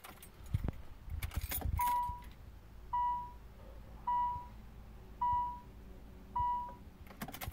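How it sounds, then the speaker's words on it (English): An Infiniti J30 primes its fuel pump, heard as a run of five evenly spaced electronic beeps after some earlier clatter and key jangling nearby, with no talking. "Fuel pump prime, here we go."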